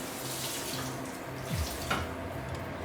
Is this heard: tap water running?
yes